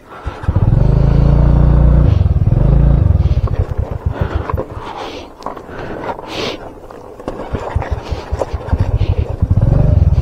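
A loaded motorcycle on a rough rocky mountain track in Ladakh, its front wheel stuck on rocks, roars loudly at close range, then sputters and blips unevenly while stones clatter and scrape, before revving hard again.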